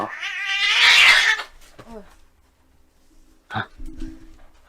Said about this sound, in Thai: เฮ้ยแมวดำโดดข้างโรงหรือเปล่าเนี่ย